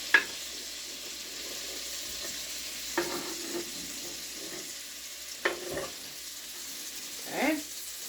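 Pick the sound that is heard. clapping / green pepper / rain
green pepper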